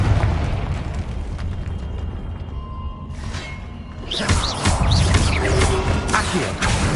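A Confringo fire spell blasts in Hogwarts Legacy, a loud game burst that swells into a roaring, crackling rush of fire and debris after a brief quieter stretch.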